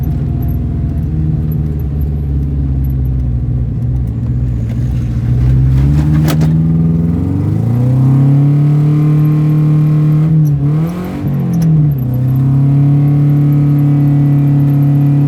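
A car engine drones loudly, then climbs in pitch through several gear changes as it accelerates, with the revs dropping and rising again midway, close up and steady, with no voices.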